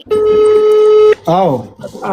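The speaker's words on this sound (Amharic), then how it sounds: "ለባለቤት ለኔ እንደምታዩት እየጠራ ነው።" A single long, steady ringback tone sounds loud and close on an outgoing phone call, followed by a brief voice.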